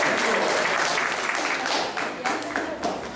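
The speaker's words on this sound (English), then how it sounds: "Let's give a round of applause for your mother and father." Crowd clapping in an ISKCON temple class in Atlanta, steady applause from many hands lasting the whole stretch with slight fluctuations and some voices mixed in.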